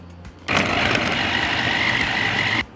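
An electric food chopper minces chopped brown onion with a loud, steady motor whir that starts abruptly and runs for about two seconds before cutting off.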